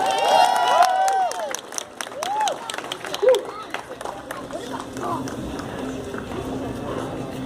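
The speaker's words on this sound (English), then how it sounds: "A big round of applause, not for me." A street-performance crowd at Pier 39 claps and cheers, a broad wash of applause with whoops behind a performer's loud voice talking over it at the start.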